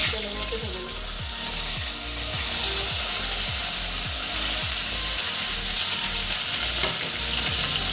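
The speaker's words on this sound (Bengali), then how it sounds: "আমি সামান্য লবণ আর সামান্য হলুদ দিয়ে ভেজে নেব" Okra sizzles steadily in hot oil with salt and turmeric, a dense, loud frying hiss that runs continuously, with a spatula's stirring scrapes and soft knocks repeating underneath.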